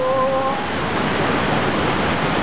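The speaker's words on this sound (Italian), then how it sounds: "Cascate da una parte!" Loud, steady roar of rushing water at the Marmore waterfall (Cascata delle Marmore) in Italy, a dense broadband wash close by, with a brief tonal squeak at the start.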